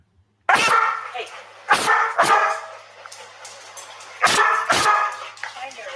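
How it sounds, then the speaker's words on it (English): Recorded footage of a dog in a basement barking in sharp, loud single barks and short pairs, spaced irregularly with quieter gaps and faint yips between them. "First, let's watch Jane and her dog Cody down in the basement."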